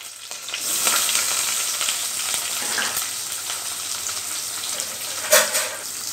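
Steady frying sizzle of onions in hot oil, a continuous crackling hiss close by, with a brief louder burst of spitting near the end. No talking.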